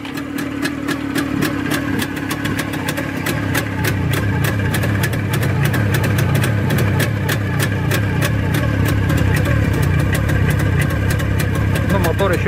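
A VAZ-2106 car engine, still cold, runs steadily at idle, a low rumbling hum with a constant rhythmic pulse, close by and fairly loud.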